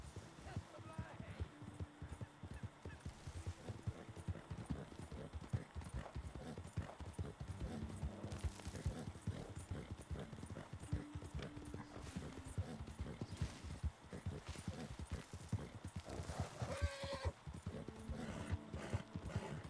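A horse in the video game Red Dead Redemption 2 clip-clops at a steady trot, with dense rhythmic hoofbeats throughout and a snort or whinny near the end, mixed under game speech.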